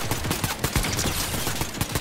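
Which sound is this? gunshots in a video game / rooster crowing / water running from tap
gunshots in a video game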